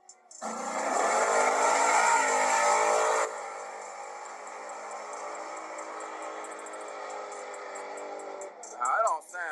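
A drag race car engine roars loudly for a few seconds, then settles into a steady lower drone, with a short sharp rev near the end.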